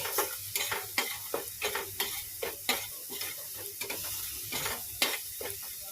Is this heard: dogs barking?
no